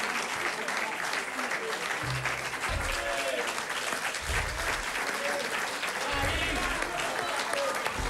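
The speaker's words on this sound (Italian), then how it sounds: "veramente facciamo ancora un applauso" Applause rolls on at a youth football award ceremony for young champions, a sustained, even crowd clapping from a moderate distance, with a few low thumps and faint voices mixed in.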